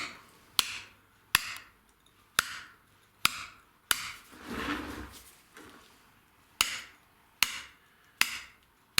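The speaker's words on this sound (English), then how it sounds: "There I just use the corner of the 8mm chisel just to roll around that corner of the number 4 at the bottom" A hammer strikes an 8mm chisel into Derbyshire gritstone in a slow, regular series of sharp, close taps, with a brief scraping pause partway through.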